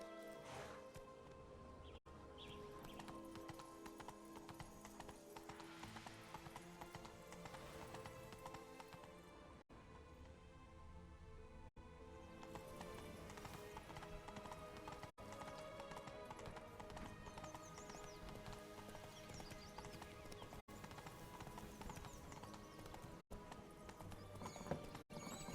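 Roach, the horse in The Witcher 3: Blood and Wine, gallops with steady, rapid hoofbeats that run under game music for the whole stretch, with occasional whinnies mixed in.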